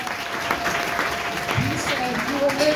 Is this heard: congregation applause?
yes